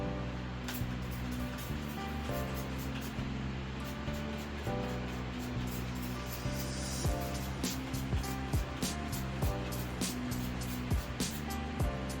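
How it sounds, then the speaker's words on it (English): A spray bottle mists a remounted Chiloschista orchid in a string of short, hissing bursts, repeated at an uneven pace over a low background hum. "Let me mist it, and we'll take it off screen real quick and mist it."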